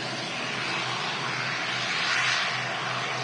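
An aircraft arriving at Manchester Airport, a steady distant roar of engine noise heard outdoors, continuous and moderately loud without speech.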